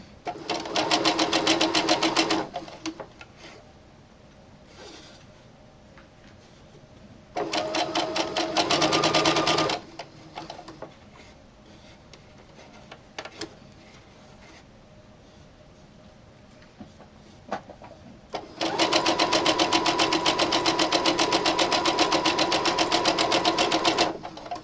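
Sewing machine stitching a fringe bag, running in three steady bursts of rapid mechanical whirring separated by quiet pauses, loud and close, with no talk.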